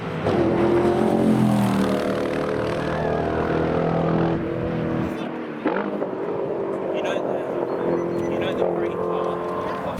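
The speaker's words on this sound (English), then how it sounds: "This Ultima has been absolutely bombing it around the track today, and it sounds amazing too." An Ultima race car circuits a track at a car show, its engine droning loud and near with rising and falling pitch as it accelerates and passes, then a quieter, rougher tail as it moves off.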